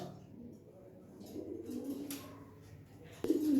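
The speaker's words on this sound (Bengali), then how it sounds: "এই এলো একটা নর কবুতর এটা নর মিলিটারি" A male military pigeon gives a few soft, low coos, faint and close, with a louder coo at the end over quiet background.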